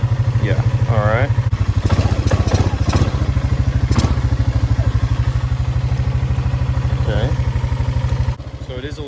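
A Honda Rubicon 500 ATV engine, long neglected and being revived with a cracked fuel line, runs close and loud with a steady pulsing low thrum. Clunks and rattles accompany it, and a person speaks over it.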